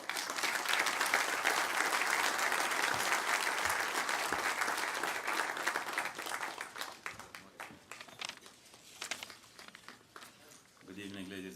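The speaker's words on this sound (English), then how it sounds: "Can we have a round of applause, please?" Applause from the audience at an awards dinner for tall buildings and urban habitat, a dense sustained clapping that thins and fades over several seconds before a voice begins at the end.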